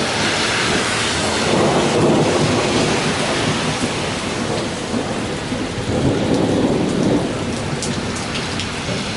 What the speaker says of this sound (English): A lot of lightning, a lot of thunder.